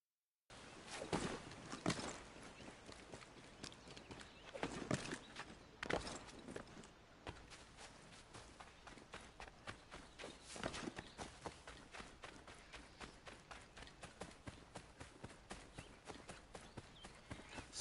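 Horse hooves clip-clopping in Assassin's Creed III Remastered, a steady rhythmic trot of dense, close hoofbeats that run continuously throughout.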